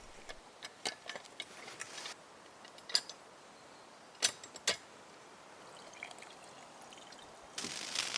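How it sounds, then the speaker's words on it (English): Quiet water pours and trickles in short bursts into a well hand pump to prime it, broken by faint clicks and knocks of metal parts. "This is the water we're using to prime the pump."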